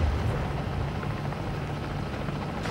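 A helicopter in a zombies video game gives a steady loud rotor roar with broad noise throughout, constant and close, with no voices.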